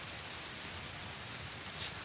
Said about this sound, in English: The rain's drowning out quite a bit of it.